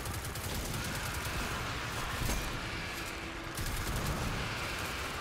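Rapid gunfire in a Destiny 2 firefight, a fairly faint but continuous rattle of repeated shots with scattered sharper cracks, spread evenly across the whole moment.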